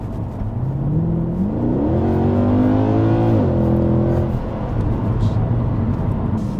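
A Mercedes W204 C63 engine revs up through the gears as the car accelerates on a road test, its pitch rising then easing off, loud and close with road noise.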